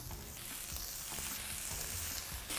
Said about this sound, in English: we're gonna cook this tomato and onions together for anywhere between 3 and 5 minutes